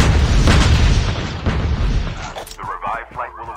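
Deep booming explosion in the Call of Duty Mobile video game, a heavy rumbling blast that decays over a few seconds amid crackling game sounds.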